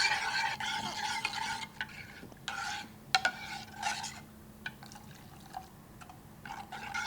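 A spoon stirs almond dal porridge with cardamom in a pot, with irregular scraping and sloshing strokes, some sharper knocks, and soft bubbling between movements, close by and fairly quiet.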